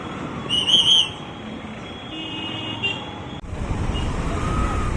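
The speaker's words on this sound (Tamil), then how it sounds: "ஸோ டிராஃபிக் ஃபுல்லாக இருக்குது இங்கே" Heavy road traffic past Singanallur in Coimbatore: a continuous roadway roar of cars and trucks, with a shrill whistle or toot early on and a louder surge of passing vehicles in the second half.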